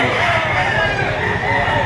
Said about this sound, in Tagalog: napakarami ang manok